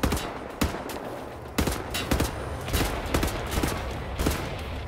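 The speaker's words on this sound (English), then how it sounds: "Pile ammo into him." Gunfire in Wolfenstein: The New Order, rapid bursts of automatic shots cracking out in quick clusters over a low background roar, fairly loud and close, with brief gaps between volleys.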